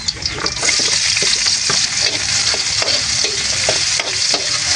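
Onions fry in a pan for a fish stew, with a loud, continuous sizzle close by and repeated scraping strokes of a spatula stirring them at an uneven rhythm.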